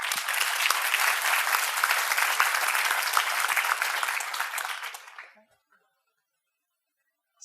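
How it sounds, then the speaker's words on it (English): An audience applauds as a speaker comes on stage at a panel event on chatbots, dense sustained clapping for about five seconds that quickly fades out into silence. "So if we can give Alex a big round of applause."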